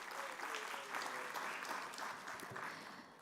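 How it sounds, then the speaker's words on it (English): A summit audience applauds in a dense, steady wash of many hands clapping, fairly distant and faint, sustained without a break before fading slightly at the end. "Let's give them all one more round of applause"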